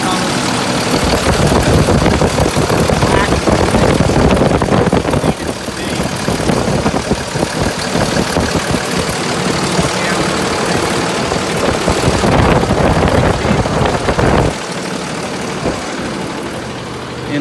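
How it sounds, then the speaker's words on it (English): A 6.7 Cummins diesel engine idles loud and close with a steady rumbling clatter, while a voice talks over it throughout. "Cold start plug, clean idle, up under the hood."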